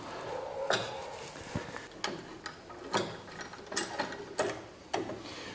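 Clamping a workpiece into a homemade drilling jig gives a series of sharp mechanical clicks and ratcheting knocks at irregular intervals, close and moderately loud, with no talking.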